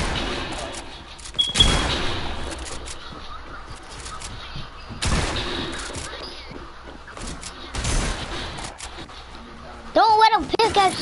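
Gunfire in a PS4 shooter video game: a few sharp, loud shot bursts spaced a few seconds apart, with a player talking between them.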